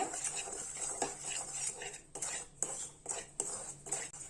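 Urad flour dry-roasting in a pan over a low flame, with repeated soft metallic scrapes and clinks of a spoon stirring against the pan, close but quiet and uneven in rhythm.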